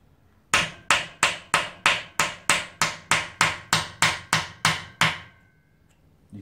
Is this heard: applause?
no